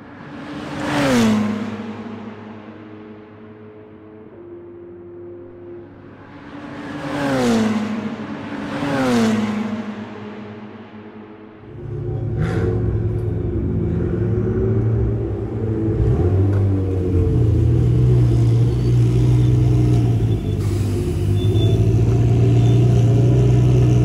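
A Ferrari Challenge race car on the Monza circuit screams past twice, each time rising and falling as it passes, then a closer engine rumble builds and holds steady with rising revs, loud and without talk.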